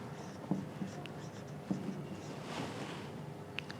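Handwriting of math on a writing surface, soft scratchy strokes with a few sharper taps as symbols are marked, close and quiet over faint room noise.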